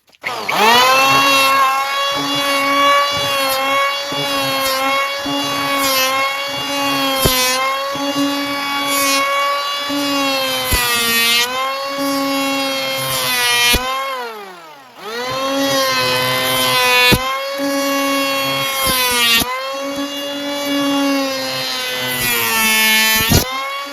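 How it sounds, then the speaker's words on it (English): Electric planer taking about an inch off the bottom of a basement storage-area door: a loud, continuous motor whine that dips in pitch under load, with a brief run-down and restart midway and no talking. "So we're gonna go ahead and get the planing done first."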